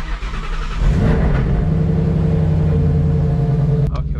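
Twin-turbo Ford Mustang S550 running E85 with a 10R80 transmission, its engine rising into a loud sustained rev and steady droning rumble while driving, close and alone.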